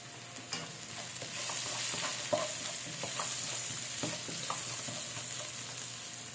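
Chopped onion sautéing with black pepper powder and salt in a pan, a steady close sizzle and hiss broken by repeated clicks and scrapes of a utensil stirring against the metal, with no talking.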